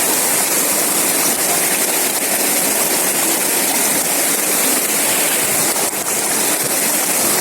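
A fast, deep river near Dam Waela in Central Maluku rushes loudly and continuously as someone crosses it, a dense roaring wash of water close by with no pauses.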